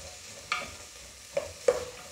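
Sliced onions and small shallots sautéing for mutton curry, a faint low sizzle under three distinct scraping knocks of a spoon against the pan, no talk.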